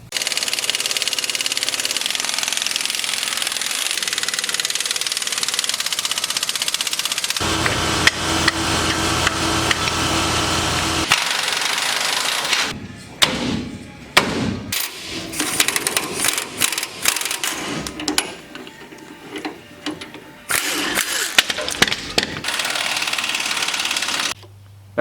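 Work under a diesel truck on its leaf spring suspension, with U-bolts and spring pins: a long steady mechanical drone, then a run of sharp, close metallic knocks and clanks at an irregular rhythm.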